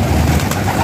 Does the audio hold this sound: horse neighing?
no